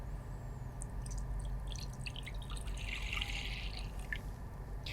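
Lukewarm milk is poured into a bowl, producing soft liquid splashes and trickles over a low background hum, quiet and close, with brief gurgling bursts in the middle.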